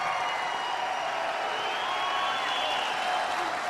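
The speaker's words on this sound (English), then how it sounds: "we should give a special round of applause to our police" Rally crowd in Bangor, Maine applauding and cheering for police, a steady broad wash of clapping and voices held at even loudness throughout.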